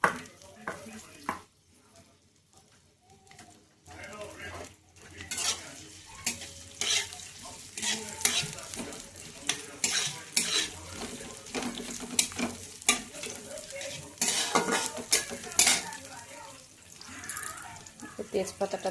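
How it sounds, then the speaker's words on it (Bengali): Onions fry in hot oil with a bay leaf until browning, a steady close sizzle with frequent stirring scrapes and clatters throughout, and a voice talking at times over the cooking. "এই যে পেঁয়াজটা হচ্ছে একটু বাদামি বাদামি ভাজবো"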